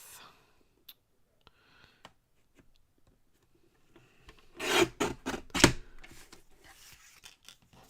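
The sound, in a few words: paper card being trimmed with a trimmer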